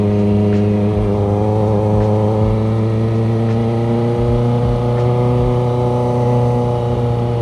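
Motorcycle engine running rough while riding through downtown Huntsville, a steady loud droning hum with wavering tones throughout, close and continuous, no talking.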